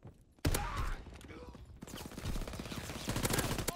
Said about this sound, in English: What if I told you I have a combat shotgun?